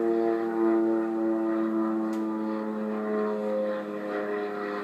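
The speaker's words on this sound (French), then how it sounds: "Certaines d'entre elles ont même filmé l'avion lorsqu'il passait au-dessus de leur domicile." A very loud propeller airplane passing overhead a residential area, a sustained droning engine hum with strong steady harmonics that holds close and heavy throughout.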